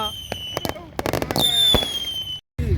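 New Year fireworks burst in Ras Al Khaimah, a rapid series of sharp cracks and booms followed by a long whistling rocket. The bursts are loud and close, with voices and crowd noise around them.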